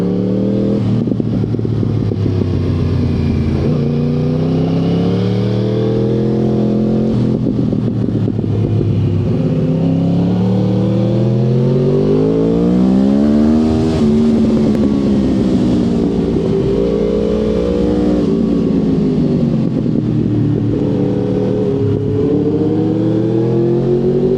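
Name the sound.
go-kart engine revving on a kart track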